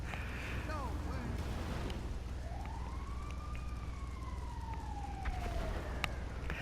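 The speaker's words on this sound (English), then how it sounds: "then this ambulance showed up and got in the way" An ambulance siren in GTA V Online wails with a long rising then falling tone, loud and continuous over steady game engine and traffic noise, with a few sharper blips near the end.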